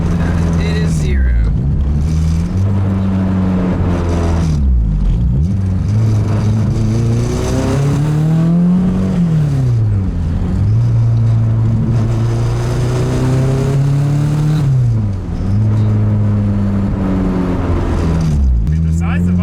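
A turbocharged K24 engine swapped into a Nissan Cefiro, all-wheel drive, revving hard while driving, its pitch climbing and dropping through repeated pulls and gear changes, loud and continuous from inside the car.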